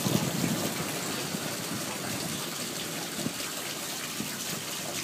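Water gushes steadily from a hose set on a roof gutter during a power outage, a continuous rushing splash heard close and fairly loud, with faint voices now and then in the background.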